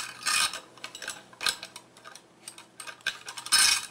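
Wrench working a nut on a Husqvarna 576XP chainsaw crankcase while splitting it, giving scattered metallic ratcheting clicks and taps in irregular bursts, close and moderately loud, with no talk.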